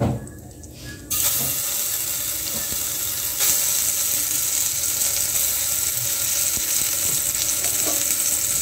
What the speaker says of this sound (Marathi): वाटण आहे ना तेलामध्ये चांगल्या प्रकारे फ्राय करून घेऊया, त्याला तेल सुटेपर्यंत।